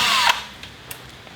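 A power tool whirs briefly at close range while removing bolts on a Yamaha C3 scooter during a fuel pump change, then stops, leaving a few light clicks.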